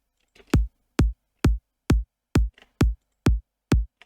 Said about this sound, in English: we're starting from the kick and the head, which works as a click for it